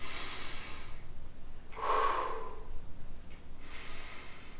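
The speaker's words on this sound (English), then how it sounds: "Exhale, inhale." Breathing during an advanced yoga flow with weights at home, with a clear loud exhale around the middle and softer breaths before and after, no talking.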